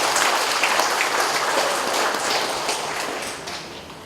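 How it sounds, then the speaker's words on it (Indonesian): An audience at an official swearing-in ceremony for government officials breaks into applause, a loud, dense patter of many hands clapping that stays strong and slowly tapers off. "tepuk tangan untuk BPPT"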